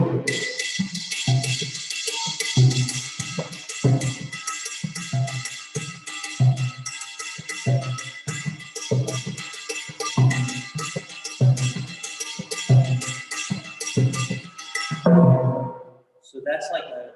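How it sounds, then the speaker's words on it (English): A steady, bright metallic pattern struck on a cowbell by a timbal player in Latin jazz, pulsing evenly and close up for about fifteen seconds before cutting off. "the cowbell would sound like this in that case"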